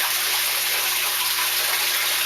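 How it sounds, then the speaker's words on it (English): Circulating water from an aquaponics fish tank pours steadily into a test tube, a continuous close splashing gush with no talk over it. "I'm just going to go ahead and fill this tube up."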